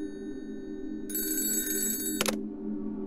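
A telephone rings in a bright, buzzy burst lasting about a second over a steady low hum. It then cuts off sharply, with no voices present.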